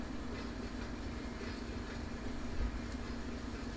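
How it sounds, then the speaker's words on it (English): A train in Run8 Train Simulator rolls past as a steady, rumbling rail-car roar with a low constant hum and faint clatter, moderately loud and continuous with no talk. "Thought I heard a train."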